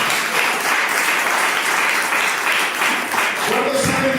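A church congregation at a Christian sermon claps steadily and loudly throughout, with voices mixed in near the end.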